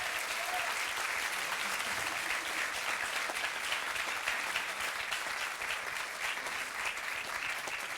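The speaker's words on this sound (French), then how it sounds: "Je crois qu'on peut encore les applaudir." At the closing ceremony of a short film festival, the audience gives a long, even round of applause, a dense continuous clatter of many hands that neither swells nor fades.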